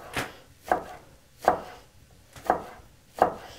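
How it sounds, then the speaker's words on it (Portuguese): A knife chops fresh parsley and chives coarsely on a board, five crisp evenly spaced thuds about three-quarters of a second apart, close and distinct against a quiet background. "nós vamos cortar a salsinha também grosseiramente."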